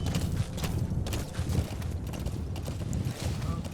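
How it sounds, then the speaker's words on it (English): Horse hooves clip-clopping during a ride in Metal Gear Solid V, a steady stream of muffled, repeating hoofbeats under a busy game background at moderate loudness. "it's really just a lot of riding the horse"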